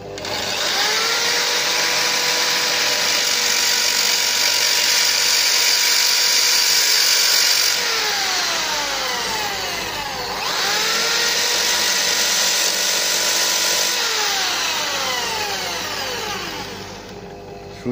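Power drill driving screws into a tire to make homemade studs for snow and ice, a loud continuous whine that ramps up and down in pitch across several screws, close and alone.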